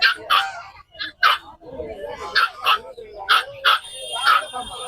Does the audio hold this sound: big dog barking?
yes